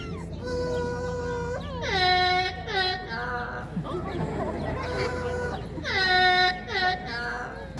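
A parrot named Eddie, hatched in Canada, whistling the Canadian national anthem at a bird park, with clear tonal phrases rising and falling in bursts between pauses amid background chatter and noise.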